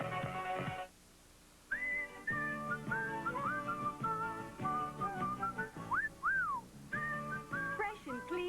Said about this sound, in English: Fresh and clean as a whistle.